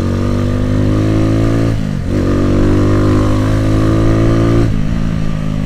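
A 2010 Minerva R150 VX motorcycle engine revs loud and close, holding a steady high drone, dipping sharply as the throttle drops, then climbing back to a sustained rev.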